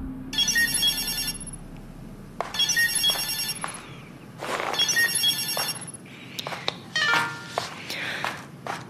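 A phone ringtone plays in several repeated bursts with short gaps between them, and the call goes unanswered. Faint footsteps and small taps sound in the background.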